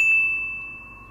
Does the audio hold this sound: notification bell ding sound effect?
yes